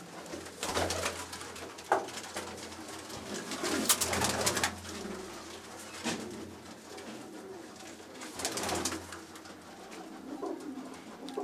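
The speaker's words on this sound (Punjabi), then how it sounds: "ਇਹ ਸਾਡੇ ਘਰ ਦੇ ਬਰੀਡਰ ਟੇਡੀ ਕਬੂਤਰ ਹਨ" Home-bred Teddy breeder pigeons coo repeatedly nearby, their low throaty calls rising and falling in overlapping bursts over a soft steady background, with no talk.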